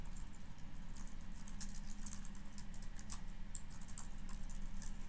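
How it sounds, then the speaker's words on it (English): Steady, fast typing on a computer keyboard, with dense light key clicks close by and no voices, while web links are entered into a WordPress site. "if we type in some links"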